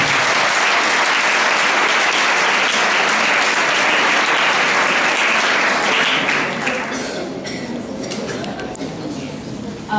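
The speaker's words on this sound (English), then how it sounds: "I think you all deserve a good round of applause because you all deserve." Audience applause for the cast of a school drama competition play at an awards ceremony, a loud, dense and sustained roar of many hands clapping that fades slightly toward the end.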